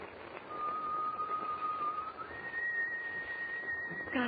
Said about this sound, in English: Whoever's whistling is standing right outside on deck.